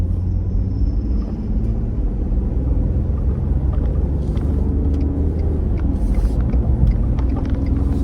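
A 2020 Ford F150 with the 3.5L EcoBoost, towing a trailer of about 1,200 pounds, accelerating onto a highway, a loud steady low engine and road rumble heard from the cab, unbroken throughout.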